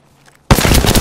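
After a near-silent moment, a loud, dense burst of rapid automatic gunfire erupts in a video game, very close and continuous to the end.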